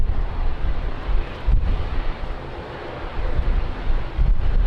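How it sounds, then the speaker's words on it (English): Strong gusting wind at Lisbon Airport roars across the microphone in a loud, continuous rumbling wash that swells and dips, with no voices. "Very windy today."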